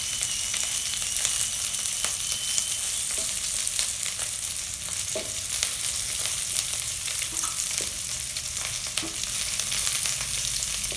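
Coconut pieces and curry leaves fry in a pan, giving a loud, steady crackling sizzle with scattered sharp pops throughout.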